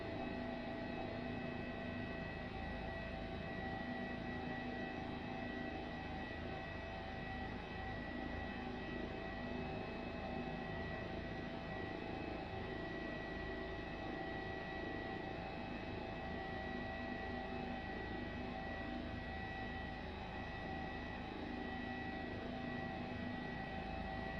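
HPG-135 helicopter in Microsoft Flight Simulator flying forward over the Grand Canyon, a steady, dense engine and rotor drone with constant whine tones and no break or change throughout.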